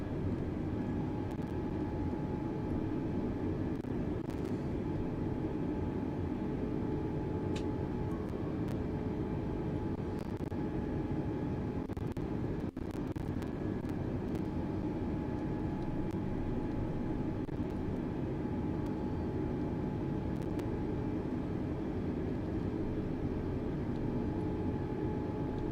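An Airbus A310 taxis at Detroit in Microsoft Flight Simulator 2020, a steady engine hum and whine that stays unchanged throughout, with a couple of faint clicks and no speech.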